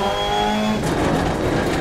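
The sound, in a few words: Ford Focus RS rally car engine, video game DiRT Rally 2.0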